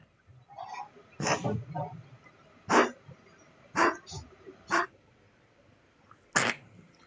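Several short, sharp bronchial dog coughs or hacks, separated by brief pauses, fairly close and moderately loud.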